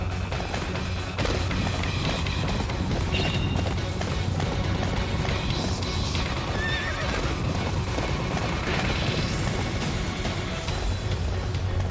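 A horse gallops in the Attack on Titan Wings of Freedom video game, with steady pounding hoofbeats and a whinny over a dense game soundscape.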